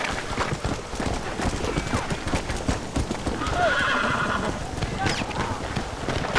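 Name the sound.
horses neighing in a video game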